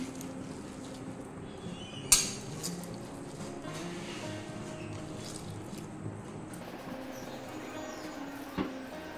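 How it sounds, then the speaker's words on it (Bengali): Coriander leaves being mixed into a prawn paste, soft wet squishing and scraping with an occasional utensil clink against the bowl, quiet and close over faint background noise. "ধনে পাতাটাও মিশিয়ে নিচ্ছি।"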